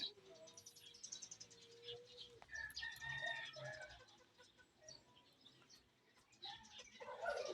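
Chickens in a small backyard coop cluck and chirp, with a rooster crowing in a mid-range mix of overlapping calls that swells and fades.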